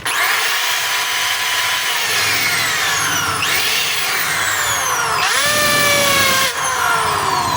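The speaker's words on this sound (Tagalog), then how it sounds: "So yun po yung hammer, tin drill." A DeWalt DWD024 half-inch hammer drill runs steadily on a test spin, its motor whine sweeping up and down in pitch as the trigger is eased and squeezed, loud and close with no talk over it.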